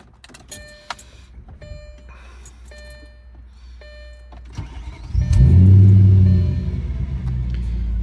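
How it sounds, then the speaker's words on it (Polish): Faint clicks and electronic chimes, then an Audi S4 B6 4.2 V8 engine cranks and roars to life, settling into a loud, steady idle rumble. "Odpalmy może samochód."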